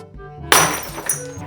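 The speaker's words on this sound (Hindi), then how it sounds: "वो दाल भी गिर गई।" A bowl of lentils drops and breaks in a home kitchen, a sudden sharp crash of shattering crockery followed by a second smaller clink as pieces settle, close and loud.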